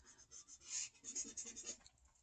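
A pencil shades across paper during a drawing of a mug, soft irregular scratchy strokes in quick repeated bursts, close and quiet, with no voices.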